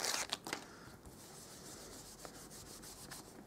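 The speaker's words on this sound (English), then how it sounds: "rub my embossing buddy all over this sheet." An embossing buddy is rubbed back and forth across a sheet of cardstock while making a butterfly card, giving a soft, close, continuous dry swishing with faint scraping strokes.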